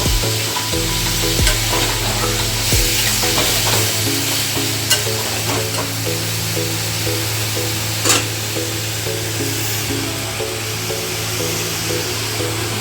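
Shredded cabbage frying over medium-high flame while jaggery is stirred through it, a loud continuous sizzle close up with repeated spatula scrapes and clinks against the pan, and a steady hum running underneath.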